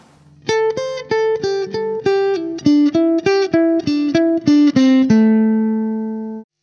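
Minor pentatonic riff on guitar with every note plucked, no hammer-ons or pull-offs: a run of about fifteen clean, evenly spaced notes stepping down the scale, close and clear, ending on a single ringing note that fades out.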